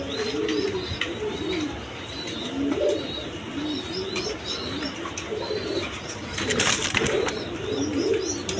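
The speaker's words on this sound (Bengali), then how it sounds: "দেখেন বড় কবুতর" Large pigeons coo in repeated soft, rolling calls close by, with occasional chirps and a brief flutter of wings partway through.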